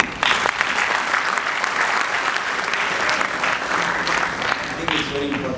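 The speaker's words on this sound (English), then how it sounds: "let's clap for all of you, please" An induction-programme audience breaks into loud, sustained applause, with a thick wash of many hands clapping at close range throughout.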